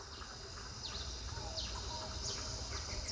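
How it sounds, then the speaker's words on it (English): Forest ambience in a regenerating woodland, with faint scattered bird chirps and calls over a soft continuous insect drone, distant and low-level throughout. "This is the sound of a forest coming back to life."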